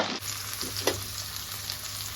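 Sliced onions sauté in a hot pan with a steady, soft sizzle and a brief stirring scrape, close and quiet, with no voices.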